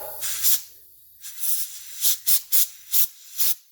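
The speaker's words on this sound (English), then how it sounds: "Compressed air is your friend here" Compressed air blows clean a carburetor in about seven short, sharp hissing bursts, close and loud, separated by near silence and quickening toward the end.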